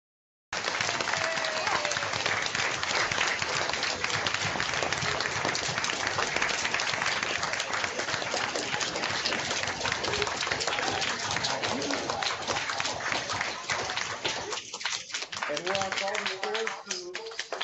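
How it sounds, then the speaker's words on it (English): A crowd claps continuously in dense, steady applause for most of the stretch before it thins out and a voice comes in at the end. "join me and give a warm round of applause to Football of Fame, Chris Hanbuger."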